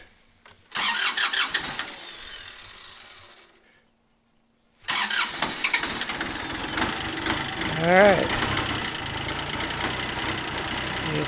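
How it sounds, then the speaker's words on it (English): A tractor engine cranks briefly, cuts out into near silence, then catches and settles into a steady loud rumbling idle, heard through a helmet-mounted microphone, with someone saying a word as it starts. "the tractor's running"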